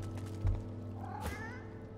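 A cat meows in the video game Divinity: Original Sin 2, a short rising, wavering cry heard close over a steady low game ambience, preceded by a brief soft thump.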